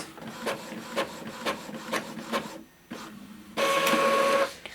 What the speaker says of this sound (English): I'm going to go to the printer, select the EPSON printer, and this is in color. Click print.